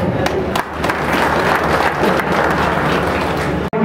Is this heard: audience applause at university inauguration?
yes